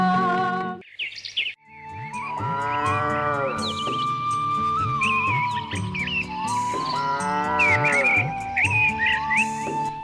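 Cattle being driven to graze moo loudly and at length, several drawn-out calls one after another, while birds chirp in the background.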